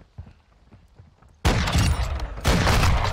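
Loud bursts of SA-B 50 rifle fire in Modern Warfare II, a sudden sustained volley of gunshots after a quieter stretch of footsteps, then a second renewed burst, close and dominant.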